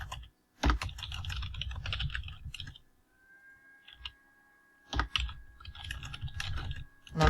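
Typing on a computer keyboard: rapid bursts of clicking keystrokes, close and clear, with a quiet pause in the middle before the typing resumes.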